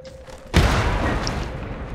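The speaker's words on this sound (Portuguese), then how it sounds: "Tá aqui a explosão." A loud explosion in the Mad Max video game bursts in abruptly after a quiet moment with a faint steady hum, then leaves a broad, sustained roaring rumble that lingers to the end.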